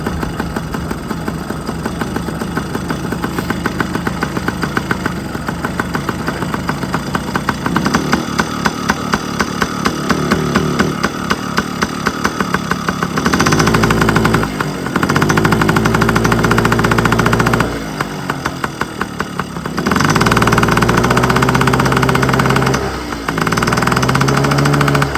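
A 1997 Yamaha PW50 two-stroke, shaft-drive mini dirt bike engine runs at a loud, steady idle, with several abrupt revs and dips in the latter half as the idle is adjusted, close by and with no talk over it.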